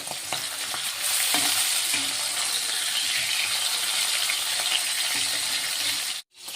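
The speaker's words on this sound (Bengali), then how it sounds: "এখন আমি মাছটা নেড়ে নিই" Bami fish sizzles and crackles steadily in hot oil with onion, cumin paste and a bay leaf as it is stirred, with light scraping and clinks from the pan, cutting off briefly near the end.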